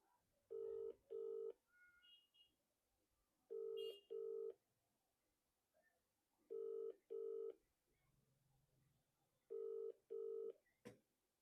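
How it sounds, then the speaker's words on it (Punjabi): A phone call ringing back over the line, with four cycles of paired ring tones separated by pauses, faint and thin as if heard through the handset. "ਅਸੀਂ ਫੋਨ ਲਾਉਂਦੇ ਆ ਭੈਣ ਨੂੰ"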